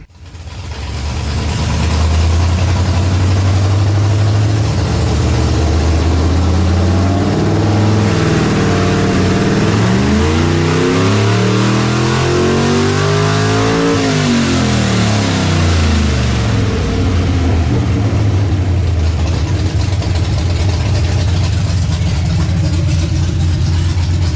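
A nitrous-fed 339 cubic-inch stroker small-block Chevy V8 roars steadily on a hub dyno, loud and sustained throughout, with a long sweeping rise in pitch through the middle of the pull before settling back.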